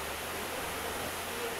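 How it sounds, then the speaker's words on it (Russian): Steady broadband rush of a waterfall in the Agura gorge near Sochi, a soft, even roar of falling water with no breaks, heard alone at moderate distance. "Вот он, ребятушки, первый водопадик наш."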